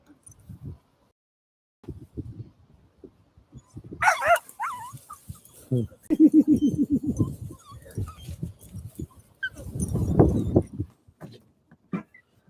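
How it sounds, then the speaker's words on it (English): Puppy at a roadside stop making scattered yips, whimpers and short barks over about twelve seconds, with bursts of louder yelping between quieter stretches and some background noise. "Oh, there's a puppy there."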